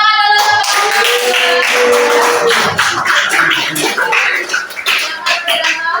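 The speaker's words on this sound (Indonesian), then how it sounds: "tepuk tangan dulu" A classroom of students applauding after a group presentation, dense rapid clapping from many hands that starts right after a short tone and fades unevenly toward the end, fairly loud and close.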